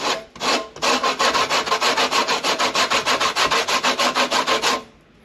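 Two lemons being zested on a hand grater, a steady run of about twenty fast, even rasping strokes, close and loud with no talking, ending in a brief quiet.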